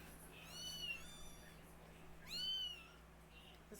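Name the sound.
kittens meowing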